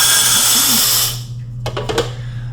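A hot-air popcorn machine roars with a steady, loud whirring blower hum for about a second, then cuts off, leaving a low electrical hum and a few brief clicks and knocks.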